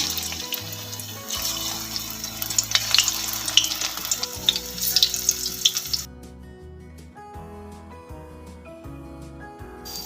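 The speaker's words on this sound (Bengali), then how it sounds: "এইবার বাকি বড়াগুলো আমি ছেড়ে দিচ্ছি" Battered drumstick flower fritters fry in hot oil, a loud crackling sizzle with stirring clatter and bubbling that stops abruptly midway, leaving quieter kitchen sounds and faint clinks.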